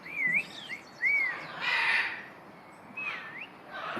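Henry, a hawk-headed parrot at a zoo park, gives several short rising-and-falling whistles in bursts with brief pauses, fairly close and clear over quiet background noise, no talking.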